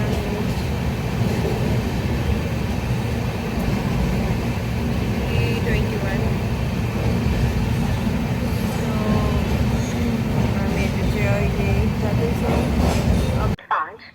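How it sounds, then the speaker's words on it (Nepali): A passenger train on an Indian railway line, a COVID special service, rumbles steadily as it slows to a stop, with dense continuous low rolling noise and faint wheel squeal throughout, cutting off abruptly at the end. "अहिले चाहिँ ट्रेन रोकिरहेको छ।"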